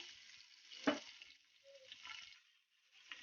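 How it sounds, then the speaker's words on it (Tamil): Green chili, ginger-garlic paste and onion fry in oil for a mushroom biryani, giving a faint, steady sizzling hiss with one soft clunk early on. "பச்சை மிளகாய், இஞ்சி பூண்டு விழுது, வெங்காயம் போட்டுங்க."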